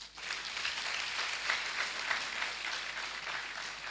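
An audience at a university congregation ceremony gives a round of applause for the planning committee, a fairly quiet, steady patter of many hands heard at a distance, with no voices.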